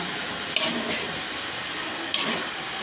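Noodles frying in a pan with vegetables, a steady hiss and sizzle throughout with two brief louder clatters of stirring.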